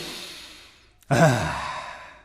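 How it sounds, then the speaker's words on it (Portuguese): A single deep breath drawn in as a vocal warm-up exercise, a quiet exhale easing out before a sudden, strong inhalation that stays loud and airy to the end, with no talk. "braços para cima, respiração profunda e inspirem"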